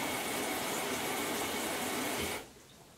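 Water runs from a tap into a container with a soft, steady hiss that stops abruptly when the flow is shut off.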